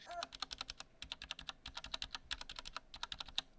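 Steady, brisk typing on a 1stPlayer MK8 Lite mechanical keyboard with Gateron switches and unpatched stabilizers: dense, crisp key clacks in quick succession, close up, with no voices.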